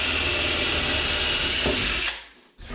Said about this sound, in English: So let's drill our pilot hole.